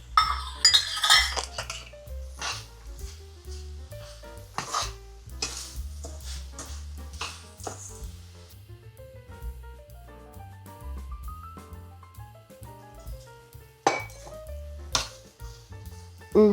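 Jaggery powder stirred in a pan while amla halwa cooks: a spoon clinks and scrapes against the pan in irregular strokes over a faint sizzle, close, with occasional louder knocks and a soft hum underneath, no one talking.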